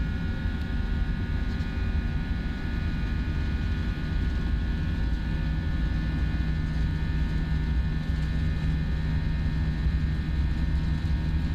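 A steady, loud simulated Airbus A320 jet engine roar in a flight simulator, with a continuous low rumble and high whine, unbroken for the whole stretch with no talking.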